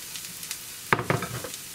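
Pasta carbonara dumped into a frying pan and stirred, a burst of sizzling and scraping that starts abruptly and fades over about a second, close and moderately loud.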